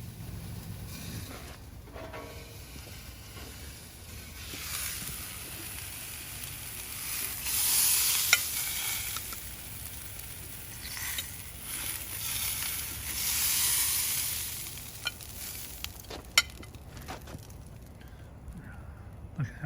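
Steaks sizzle on a Blackstone 22-inch griddle, a steady close hiss that swells and fades in waves, broken by a few sharp pops and ticks.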